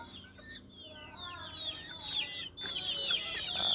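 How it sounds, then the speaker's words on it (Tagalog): Several chickens cluck and squawk nearby, with overlapping calls and a few sharper cries over soft background noise. "Mga manok ni guys."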